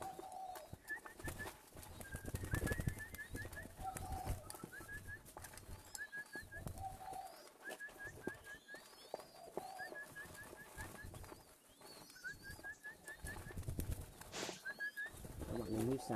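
Young doves coo repeatedly in soft, low phrases amid other chirping birds, with faint outdoor rustling and occasional thumps.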